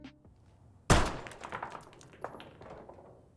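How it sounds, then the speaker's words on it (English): Balls on a pool table shot in the Call of Duty Black Ops 6 video game: one sharp, loud impact, then a scattered run of fainter clacks and knocks as the balls roll and hit. "If you shoot the balls on a pool table, something really cool will happen."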